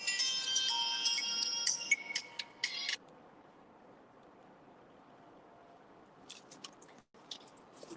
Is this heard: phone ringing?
yes